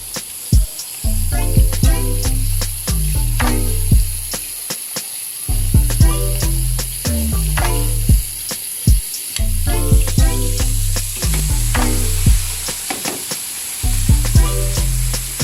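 Chicken pieces frying to golden brown for a sweet-and-sour lemon chicken crackle and sizzle loudly in hot oil, steady bubbling hiss broken by sharp pops and spatters throughout.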